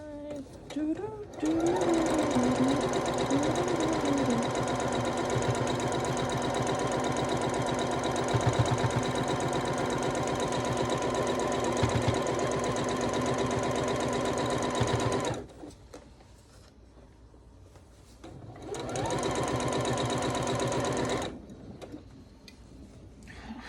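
A sewing machine runs steadily while stitching a quilt of short pumpkin blocks, a fast close mechanical whir that stops, then starts again for a shorter run before quieting.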